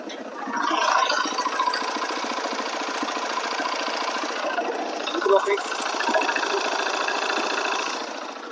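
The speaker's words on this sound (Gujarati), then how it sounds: "થોડી વાર માટે એન્જિનનો અવાજ સાંભળી લો" A TVS XL100 Comfort 2024 moped engine idles steadily with an even, rapid chugging rhythm, close by and continuous for several seconds, with a slight rise in the middle.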